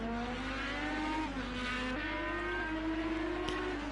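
An IndyCar screams around the Indianapolis road course in a video game, its engine a steady high whine that climbs through gear changes, close and constant with no voices.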